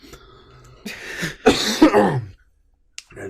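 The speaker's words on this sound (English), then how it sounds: "I made myself cough." A few sharp coughs close by, with a throat-clearing quality, ending in a short silence and then a faint sound.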